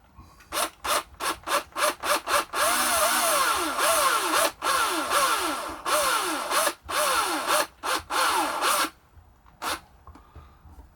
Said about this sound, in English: if we're careful and just let the drill go in until it drills the hole and back out again